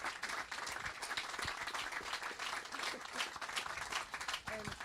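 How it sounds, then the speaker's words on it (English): An audience applauds a moderator and speaker at the close of a talk, with steady dense clapping throughout and a brief voice near the end. "Can we get a round of applause for our moderator and speaker?"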